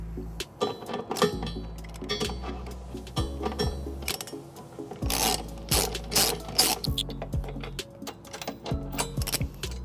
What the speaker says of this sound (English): I am using a 5-inch extension on my ratchet here